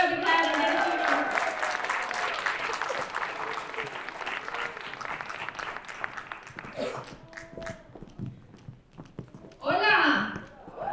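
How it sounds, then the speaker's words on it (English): An audience at a cultural festival applauds and cheers for a mariachi band, a dense wash of clapping that fades out, followed by scattered voices and a brief cheer near the end. "So let's give her a big hand and get a cheer."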